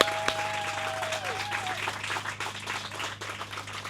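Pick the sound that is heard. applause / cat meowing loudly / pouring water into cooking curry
applause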